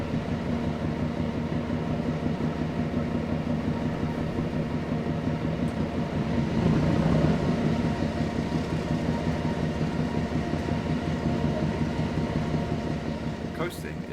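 A diesel shunter locomotive in Train Sim World 2 on the Tees Valley Line runs at speed with a steady loud engine drone and rail rumble, swelling slightly midway, with a brief click near the end.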